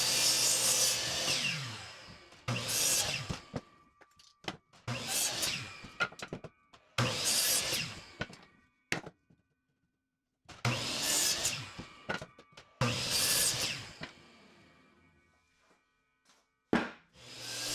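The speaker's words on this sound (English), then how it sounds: "go on the miter saw, safely cut them into the parts I need" A miter saw cuts through wooden boards in repeated bursts of a few seconds each, separated by short quiet pauses, loud and close.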